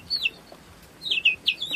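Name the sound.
clucking Dumse chicken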